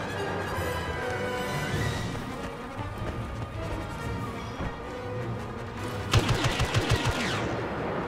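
Rapid blaster fire during a Star Wars: Battlefront survival match on Tatooine, layered over dense game music and effects, ending in a quick rhythmic volley of shots that stands out near the end.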